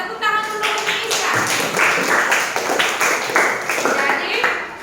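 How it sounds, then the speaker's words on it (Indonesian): A classroom group claps in a short burst of close, crisp handclaps, uneven and layered, with a few sharper taps standing out, fading after a few seconds. "tepuk tangan untuk Indonesia"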